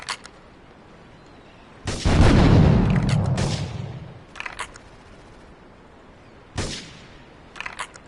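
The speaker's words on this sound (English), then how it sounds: "investigating reported gunfire and explosion" Gunfire and an explosion in the video game GTA 3: a sudden loud blast at about two seconds, a roaring rumble that fades over two seconds, then scattered sharp shots and another bang.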